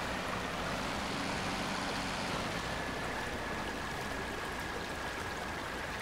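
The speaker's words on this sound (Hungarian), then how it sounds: "Viszi a víz keresztbe!" Rushing water pushes a Zetor Cristal 12045 truck sideways in modded Spintires, heard as a steady, broad hiss of flowing current at even volume throughout, with no talk.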